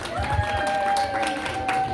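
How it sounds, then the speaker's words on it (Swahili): Councillor receiving applause at a public meeting, a crowd clapping continuously for two seconds with a faint steady tone running underneath. "Makofi kwa Mheshimiwa Diwani."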